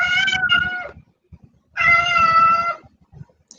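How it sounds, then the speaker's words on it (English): A cat lets out two drawn-out, plaintive meows at a door separated by a short pause, close by, with faint thumps and rustling in between. "She's meowing at the door."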